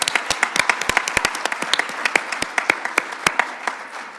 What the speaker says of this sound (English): I'd like to acknowledge a round of applause for Claudia Edelman for initiating this